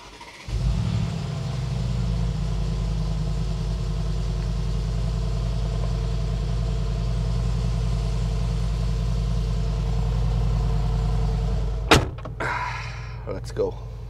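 Mercedes G63 SUV engine cranking to life in the morning, catching quickly, then settling into a deep, steady idle rumble held close for over ten seconds, with a couple of sharp door-like knocks near the end.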